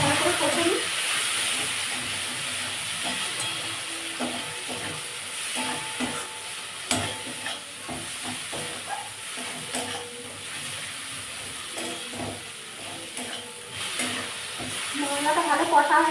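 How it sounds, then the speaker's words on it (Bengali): Spice masala with chilli powder is stirred as it sautés in a pan for a pottol keema curry. A steady close sizzle and hiss runs throughout, with occasional scraping stirs and a voice talking over it. "মশলাটা ভালো করে কষে নিই।"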